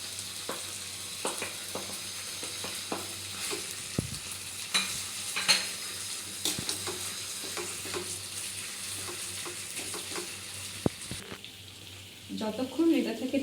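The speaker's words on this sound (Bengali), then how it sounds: "যতক্ষণ এটা থেকে তেল না ছাড়বে ততক্ষণ আমাকে এটা নেড়ে যেতে হবে" Cashew and fried onion paste being stirred in a frying pan for a chicken korma, a continuous low sizzle with rhythmic scraping strokes, close by, fading to quieter rustling at the end with no talking.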